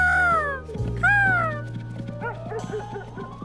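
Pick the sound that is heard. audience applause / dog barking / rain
dog barking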